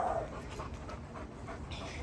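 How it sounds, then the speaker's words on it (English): A dog panting at a fence on a long line outdoors, quick soft rhythmic breaths, faint and fairly close, under steady outdoor background noise. "So we have a dog at this fence here."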